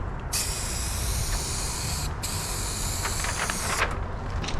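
A spray can of touch-up paint hisses onto a car panel in two steady bursts, the first about two seconds long and the second slightly shorter after a brief pause, with no talking.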